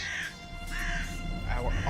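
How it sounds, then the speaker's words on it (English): Crows cawing in The Witcher video game, a few harsh calls repeating over a steady background of game ambience, moderately loud and close, with a voice also speaking. "Birds."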